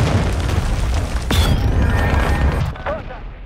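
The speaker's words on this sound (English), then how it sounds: "Hostile cruise missile launched." A cruise missile strike explodes in Call of Duty Modern Warfare II multiplayer, a loud sustained booming rumble with a sharp crack near the middle, then the roar thins and fades, with faint game voice chatter beneath.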